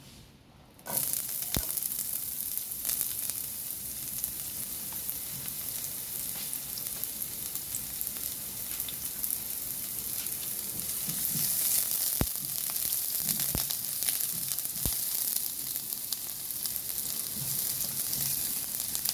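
Onion drops into a pan of hot oil and bursts into a sudden, steady sizzle that hisses and crackles continuously, with a few clicks and scrapes, close and free of speech.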